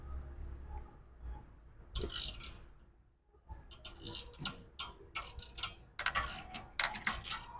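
Wrench ratcheting on a 12 mm belt tensioner bolt of a 2010 Kia Soul, loosening it with quick clicky bursts of ticks and metallic rattles, close up, separated by short pauses.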